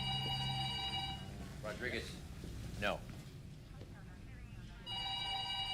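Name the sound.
telephone ringing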